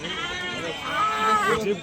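Male goats bleat in wavering, nasal cries close by, overlapping one another amid a busy crowd murmur at a livestock market in Rampuram.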